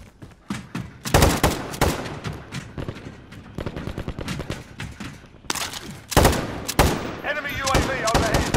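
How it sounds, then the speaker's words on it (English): Gunfire in Call of Duty: Modern Warfare 3: loud bursts of automatic fire crackle repeatedly, with short gaps between volleys and heavier rattling stretches near the start and end. "Yep, they're shooting at me."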